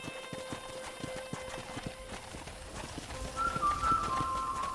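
Steady clip-clop of horse hooves at a walking pace in Red Dead Redemption, evenly spaced beats over a soft ambient background, with a tonal chime rising near the end.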